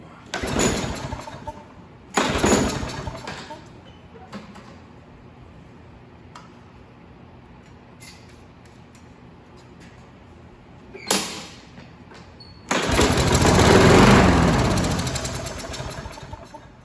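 A Craftsman Platinum EZ Walk 7.25 190cc walk-behind lawn mower engine cranks and catches in several short loud bursts, idles quietly between them, then roars up and runs strongly near the end, close and outdoors.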